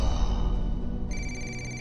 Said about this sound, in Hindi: ये फोन की बैल